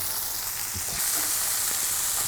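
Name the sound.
Lion's Mane mushroom steaks frying in oil in a pan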